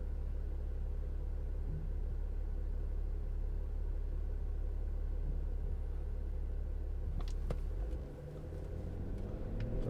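A 2009 BMW X6 30d xDrive diesel drives round a roundabout, giving a steady low engine and road rumble from inside the cabin that dips briefly near the end before carrying on.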